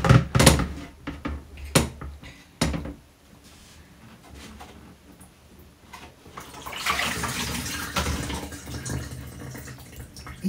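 Running tap water while dentures are washed at a sink; a few sharp knocks and clatters come first, then a steady, close rush of water fills the last few seconds.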